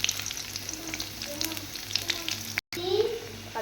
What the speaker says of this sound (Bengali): আলুটা একটু ভেজে নেব তেলের মধ্যে